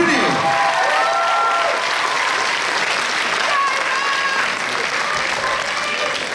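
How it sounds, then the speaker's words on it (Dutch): A crowd at the Miss Fashion 2020 show applauds loudly and continuously for the interim prizes, a dense wash of clapping with faint voices and music tones mixed in. "Geef ze een applaus."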